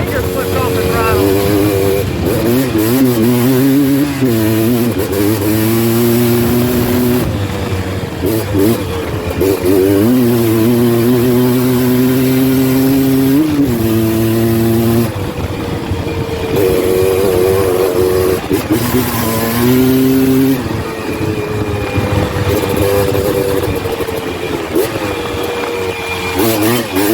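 A Honda TRX330R ATV after a full build, its engine revving hard while riding, loud and close, with pitch repeatedly climbing and dropping through the throttle and gear changes.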